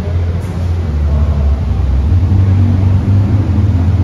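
A Ferrari SF90 running on its petrol engine rather than in hybrid mode rumbles past close by, giving a loud, deep, steady engine roar for a few seconds.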